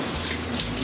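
Shower-head water streams steadily over a Shih Tzu during a bath rinse, a close, continuous hiss and splash with no break and no voices.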